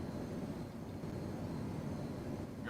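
A fighter jet taking off in Microsoft Flight Simulator 2020, heard as a steady, low, dense engine roar that fills the whole stretch at an even, moderate level, with no talking over it.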